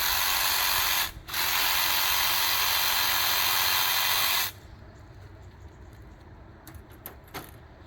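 A saw buzzes steadily through the pelvis of a whole hog being prepared for roasting, loud and continuous for about four seconds with a brief pause, then drops to quieter scraping and clicks.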